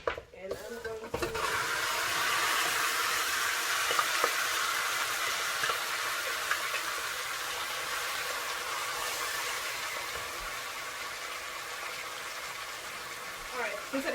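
Marinated chicken sizzles in burnt sugar in a pot over medium heat for Guyanese-style bun suga stew chicken. After a brief clatter, a steady, even hiss carries on without a break.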